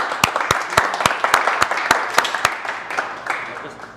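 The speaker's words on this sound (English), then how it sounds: "So how about a big round of applause for Florian?" A meetup audience of developers claps for a speaker, with sparse, distinct hand claps ringing out in an uneven rhythm and a few voices murmuring between them.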